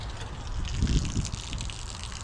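Water gushes steadily out of a Hotsy 550B steam cleaner, a close, continuous rushing stream that holds at an even level throughout.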